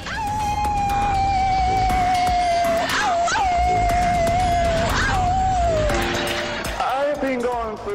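Human voices imitate dogs howling, with long, wavering, drawn-out tones that rise and fall, overlapping one another.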